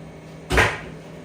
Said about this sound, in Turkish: Şu kapıyı kapatacağım ki.